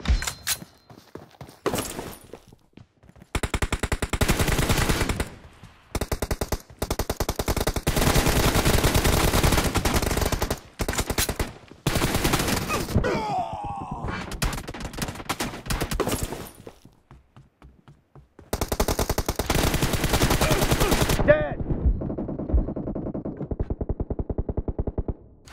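Video game gunfire: long bursts of rapid automatic fire broken by short gaps and a few single shots, loud and close, with no talk.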